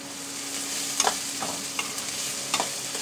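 Cowpea pods with green chilli thecha stirred in a sizzling pan, a few scraping strokes over steady frying hiss.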